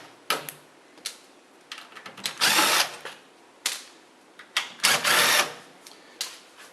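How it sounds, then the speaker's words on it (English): A power drill backs screws out of a golf cart's fabric side surround in short whirring bursts, with two longer runs between quick clicks and taps, close by and with no talk. "we're going to take out the screws in the surround."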